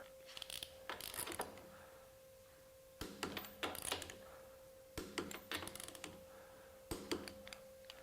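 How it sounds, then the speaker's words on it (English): A SKIL PWRCORE 12V brushless electric ratchet runs in short bursts, a faint mechanical whir with rapid clicking, repeated several times with a steady tone in the background. "So we've got our SKIL ratchet"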